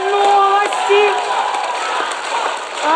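A jury gives a standing ovation at a televised contest, with crowd clapping and cheering mixed with excited voices and scattered shouts.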